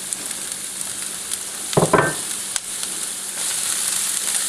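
Half a cup of onions sizzles in a hot pan for chicken fried rice, a steady close frying hiss with a brief burst of stirring or scraping partway through.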